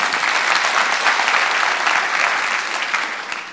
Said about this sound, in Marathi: जोरदार टाळ्या व्हायला हव्या